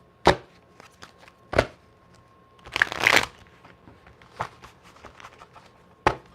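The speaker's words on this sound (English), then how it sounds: "let me get a little shuffle" Tarot cards are shuffled by hand close up in several quick riffling bursts separated by short pauses, one longer flurry in the middle, with no talking.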